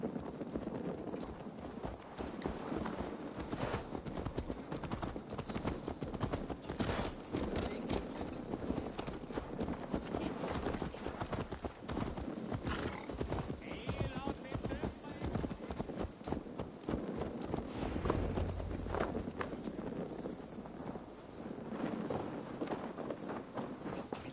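Steady clip-clop of horse hooves at a walking pace in Assassin's Creed Valhalla, with background voices and game ambience underneath.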